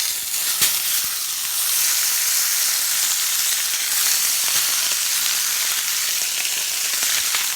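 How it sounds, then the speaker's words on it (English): Sous vide pork tenderloin searing in hot grapeseed oil in an iron pan, giving a loud, dense, steady sizzle up close with a brief crackle near the start. "You want to get that hard crust, hard sear on there."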